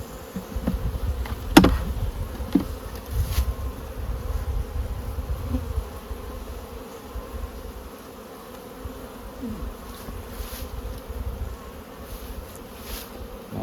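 Bees buzzing around the Crossmaglen beehives as they are moved in November, a soft continuous hum close by, with a few sharp knocks and handling clunks early on.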